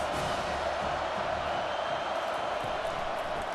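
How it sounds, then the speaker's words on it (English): A home football crowd roars in a steady, dense wall of noise from a packed stadium, continuous and loud throughout. "This crowd trying to make life miserable for this offense."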